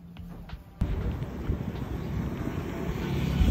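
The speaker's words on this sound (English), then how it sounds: "not only cold, but it is windy too" Strong cold December wind in South Korea buffets the microphone after a sudden gust starts, a rough, continuous low roar that builds steadily louder.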